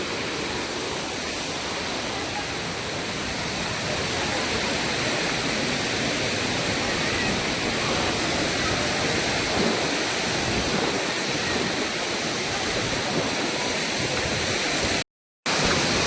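A continuous roar of water rushing down Savdav waterfall in Konkan fills the whole stretch, steady and loud, cut by one very brief dropout near the end.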